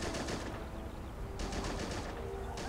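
Automatic video game gunfire is aimed at infantry in a World War II battle between American and Axis forces. Repeated machine-gun bursts come and go against a steady background rumble, moderately distant, with no speech.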